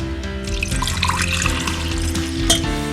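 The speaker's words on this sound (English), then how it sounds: "add little water to this mixie jar" Water pours into a mixer grinder jar to thin a paste, a close, steady splashing stream that continues throughout.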